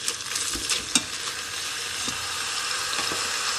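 Tomatoes hitting a hot pot bring up a steady broadband sizzle, with a few soft clinks and stirring scrapes near the start, then a continuous frying hiss that holds at an even level to the end.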